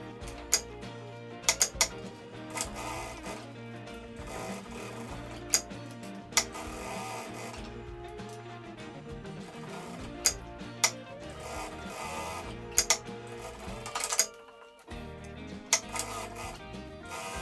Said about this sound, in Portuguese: Eu vou prender com uma costura, tá? Ao redor de todo o bolso